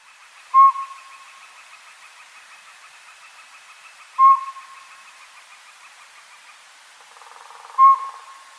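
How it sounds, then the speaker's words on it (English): Northern pygmy owl giving three single whistled toots spaced several seconds apart, clear and moderately close, with faint woodpecker and background bird sounds between the calls. "So the biggest difference for this vocalization for me is it almost seems like the northern pygmy owl is contemplating what it's going to say each time."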